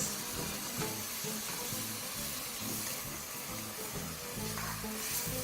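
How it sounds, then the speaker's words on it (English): Hot stock ladled into a sizzling pan while making sweet corn, chickpea and bacon soup produces a faint, steady hiss and bubbling with light scraping underneath. "I'm just going to get about 2 ladlefuls of the stock. So this is basically just to cool down the pan a little bit."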